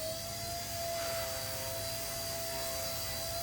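A Blade Nano S3 micro RC helicopter's rotor spins at steady throttle, a thin, constant electric whine with a soft airy rush, fairly faint and unbroken for a few seconds.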